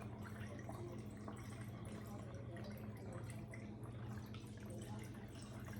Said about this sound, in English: pouring it in the jar.